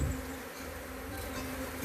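Bees swarm around a honey feed left outdoors, making a continuous close buzzing hum that stays loud and even for about two seconds, with no talking.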